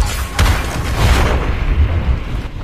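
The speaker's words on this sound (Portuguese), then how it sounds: "Muitos tiros já atacam ele aí." Dense, booming barrage of gunfire and explosions from the video game Strider on PS4, loud and continuous with a sharp blast near the start.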